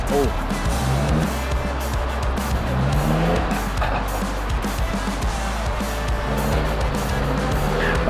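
A heavy Land Rover 4x4 churns through an off-road course in a competitive trial, its engine roaring steadily and close with wheel spin and skidding noise throughout, voices faintly mixed in.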